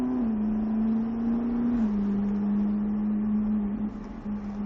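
A Ferrari F340 engine holds a loud, steady drone as the car is driven, with the pitch dipping slightly and then holding through the acceleration.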